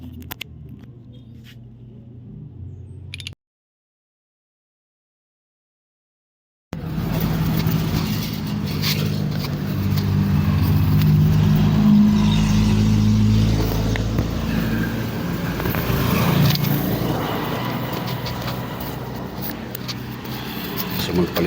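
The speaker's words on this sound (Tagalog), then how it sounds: "Pasensya na kayo mga boss kung maingay kasi tabing daan yung bahay namin" Road traffic passing a roadside house: a continuous broadband rumble of passing vehicles that swells and fades. It drops to silence for a few seconds, then returns louder and steady.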